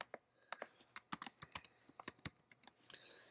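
Rapid, uneven clatter of keys on a computer keyboard in a quiet room, sharp distinct clicks in quick bursts with brief pauses, close and moderately loud, no voices.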